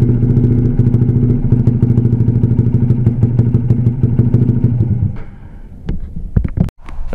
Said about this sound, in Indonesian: Bila enjin panas dia ada bunyi kuat sikit dekat enjin.